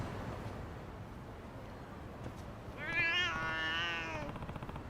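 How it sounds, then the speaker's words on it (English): A cat meows in the video game Lost Judgment, a few drawn-out, wavering cries rising clearly after a quiet stretch of low ambient noise. "Anyway, kitties."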